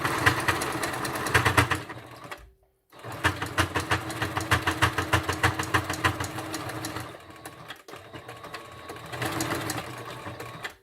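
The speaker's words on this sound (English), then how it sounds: "I like to use a zigzag stitch to make it more secure." A sewing machine zigzag-stitches a pleated fabric face mask, with rapid rhythmic needle chatter running close and steady, pausing briefly once and then continuing in long bursts.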